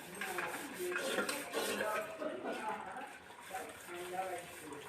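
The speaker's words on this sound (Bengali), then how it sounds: "রাতের কিছু একটু বাসন ছিল সেগুলো পরিষ্কার করে মেজে নিলাম" Dishes being washed and scrubbed in a home kitchen, with quiet clinks of utensils and soft scrubbing and water sounds under a woman's speech.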